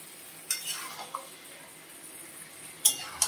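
Chicken pieces drop one at a time into a hot pan, each landing with a soft clatter and a brief sizzle over a quiet background hiss.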